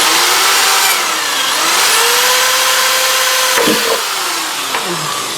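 A power tool cuts a hole into a steel 45-gallon drum about an inch above the seam. It gives a loud, sustained whining grind whose pitch rises and falls as the cut goes on, and a few sharp knocks come near the end.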